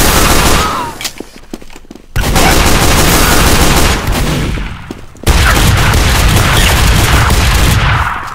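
Dense, continuous weapon fire and booms in Team Fortress 2 on a vertical payload map, loud and sustained with brief drops between volleys and no talking.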